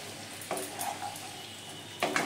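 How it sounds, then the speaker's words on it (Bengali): Spring onion greens and potatoes frying in a pan, a steady low sizzle broken by two bursts of stirring scrapes and clatter from a utensil against the pan. "এবারে এগুলোকে ভালোভাবে নেড়েচেড়ে নিয়ে মিশিয়ে নিচ্ছি।"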